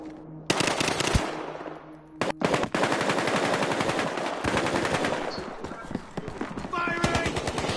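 Rapid automatic gunfire from a video game shooter crackles in loud dense bursts almost continuously, with brief pauses between volleys and faint game sounds underneath.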